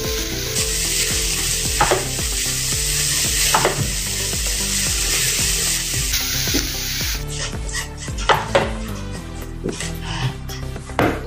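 A spatula stirs a sizzling pan of cumin powder and salt for a moong dal snack, giving rhythmic scraping strokes over a steady frying hiss, close and fairly loud, no talking.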